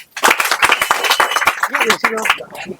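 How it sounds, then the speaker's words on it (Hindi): Students at a coaching centre in Sheohar clapping, a brief burst of close, sharp claps with voices talking over and after it. "चलिए एक बार ताली बजाइए आप लोग।"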